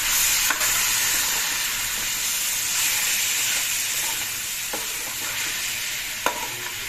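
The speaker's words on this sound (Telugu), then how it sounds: "పచ్చిమిర్చి ఉల్లిపాయ కరివేపాకు ఏగే కదండి, చికెన్ వేస్తున్నాను" Chicken fries in a pan with onions, green chillies and curry leaves, making a continuous close, bright sizzle and hiss with a few soft clinks of stirring.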